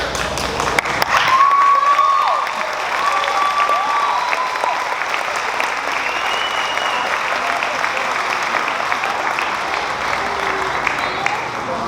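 Audience applause at a school graduation ceremony, sustained loud clapping with scattered cheers and whistles from the crowd, continuing for the full length with occasional voices mixed in.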